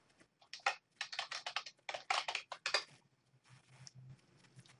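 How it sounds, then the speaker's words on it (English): Quick keystrokes sound on a computer keyboard, typed in short fast bursts of clicks, close and fairly quiet, followed by a few slower taps and a pause. "Select the Create option and type Sales Rep and press Enter."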